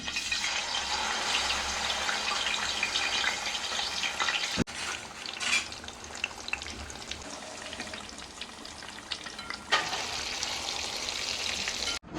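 Marinated fish frying in hot coconut oil with curry leaves for Kerala fish pollichathu, a loud, steady, continuous sizzle with a brief break partway through before the crackling resumes.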